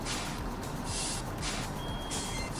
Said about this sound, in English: low air brake noise